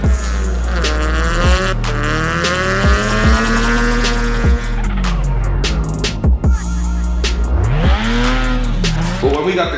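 Nissan 180SX drift car sliding: loud revving engine with rising and falling pitch under continuous tire squeal, gear changes and throttle lifts breaking the howl, with faint voices in the background.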